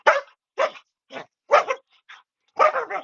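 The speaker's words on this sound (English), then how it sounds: "as you can see, I have some happy puppies this morning." Happy, excited puppies give a quick series of close, sharp barks and yips, about seven bursts with short gaps between them.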